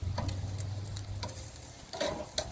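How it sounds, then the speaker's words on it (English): Soft, steady sizzling of pork loin steaks frying on a hot grill, with a few faint clicks and taps scattered through, fairly quiet. "See, it's sizzling really good."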